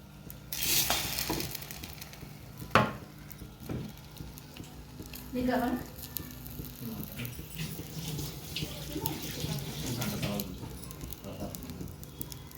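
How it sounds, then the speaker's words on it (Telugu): Bread fries in a pan over high heat with a steady close sizzle, broken by scraping and clinking from the pan and a sharp knock near the start. "బాగా ఫ్రై అవ్వాలి హైలో పెట్టుకొని"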